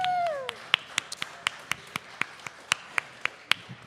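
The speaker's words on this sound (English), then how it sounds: "Give a round of applause to" A small group claps sparsely at a live show, the claps sharp and irregular at first and then settling into a steady rhythmic beat, heard after a voice briefly rings out.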